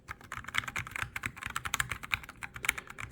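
Rapid, uneven typing on a computer keyboard, loud and close, with crisp clacking keystrokes in a dense continuous run and no voices.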